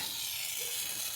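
Steady sizzling hiss from an overheated 1968 Ford XL engine bay, a continuous broadband fizz like hot fluid on metal, fairly quiet and close with no voices over it.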